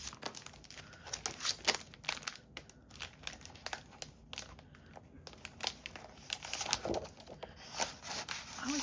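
Plastic packaging around paper pads crinkles and rustles close by in quiet, irregular bursts, with soft handling noises throughout.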